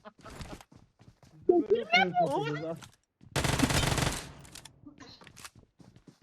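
Gunfire in the mobile game PUBG Mobile, a dense burst of automatic fire lasting about a second with scattered lighter clicks around it, while players talk excitedly over it.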